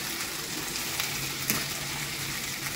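A spiced yogurt paste sautés in a pan over medium heat, producing an even, moderate sizzle with a faint scrape of stirring partway through.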